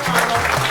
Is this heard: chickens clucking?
no